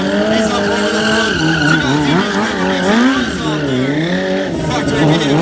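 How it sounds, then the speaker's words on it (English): A BMW S1000RR sport bike skids around a Riverside dealership parking lot during stunt riding, its tyre squealing in long wavering howls over a loud, steady engine for the whole stretch. "Mcneil just skating this S1000RR all around the parking lot here at BMW Motorcycles in Riverside."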